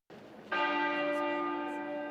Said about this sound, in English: Westminster Abbey's tenor bell chiming once a minute for 96 minutes, marking each year of Queen Elizabeth II's life